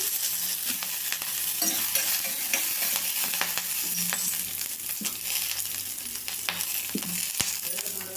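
Peanuts, cumin and chopped green chillies fry in a pan with a continuous close sizzle, punctuated by stirring scrapes and small clinks, no talk.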